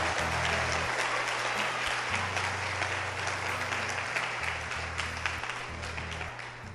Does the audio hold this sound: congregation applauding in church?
yes